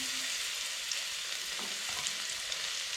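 Crushed ginger and garlic frying with spices in hot oil, a steady close sizzle with faint stirring scrapes throughout, no voices.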